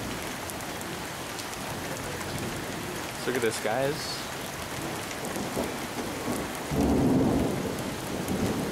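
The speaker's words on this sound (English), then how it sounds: "we're getting hit by a huge thunderstorm right now" Heavy thunderstorm with steady rain pouring on surfaces and rumbling thunder that swells loudly toward the end, while someone speaks briefly under the rain.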